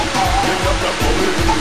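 Concord Falls No. 1 on the western side of Grenada roars as a steady, loud, broadband rush of falling water, with no speech heard.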